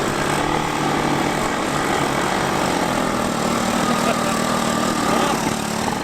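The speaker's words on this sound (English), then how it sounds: "With the 125 shifted back into low gear, John was finally able to get some RPM out of it and have some fun in the snow." A 125 three-wheeler engine revving high in low gear while riding through snow, a continuous loud buzzing drone with a steady pitch that holds throughout and no talking over it.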